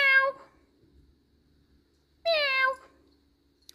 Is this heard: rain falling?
no